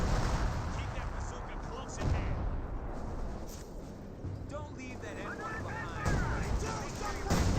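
In a Company of Heroes 2 battle, M1919 machine guns trade fire with an MG42 among dense, continuous gunfire and booming explosions, with a voice talking over the fighting.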